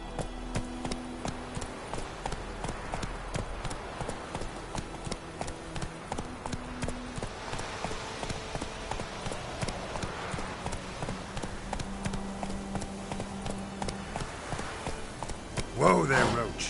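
In Witcher III, the horse Roach's hooves clip-clop in a steady trotting rhythm, close and clear, with game sounds underneath and a short flourish near the end.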